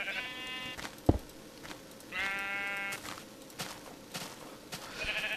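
Sheep in Minecraft, the block-building video game, bleat in two clear wavering calls with a gap between them, joined by a sharp click and scattered game sounds.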